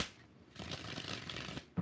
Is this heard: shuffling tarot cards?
yes